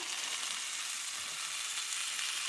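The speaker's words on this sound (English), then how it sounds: "So I am going to add our cumin seeds." Cumin seeds sizzle in a hot breakfast skillet, giving a soft, steady, even hiss with no voices over it.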